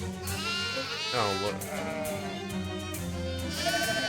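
A sheep in the video game Shadows Over Loathing bleats in a long, wavering, nasal cry over a constant musical backdrop, with a couple of quiet words spoken near the start.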